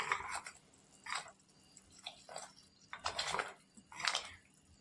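Cooked kokum syrup mixture being strained, heard as soft wet drips, splashes and liquid trickling in irregular bursts, with light clinks of a utensil against a vessel, fairly close but quiet.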